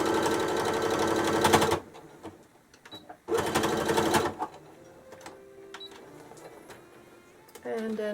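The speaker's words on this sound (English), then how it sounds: "I'm gonna take this to the machine, 1/2 inch seam allowance" A sewing machine stitches a quilted rag bag with a half-inch seam allowance: two loud, rapid bursts of mechanical stitching separated by a short pause, then quieter handling sounds and a brief final whir.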